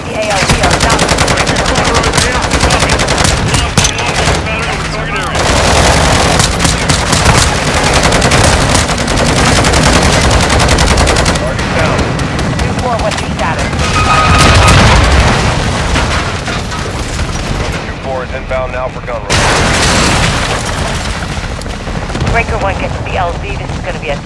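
Gunfire and explosions from Call of Duty: Modern Warfare II keep up a loud, dense battle, with machine-gun bursts and heavy booms rolling over one another. Radio voices talk beneath the din, and there are a couple of short lulls.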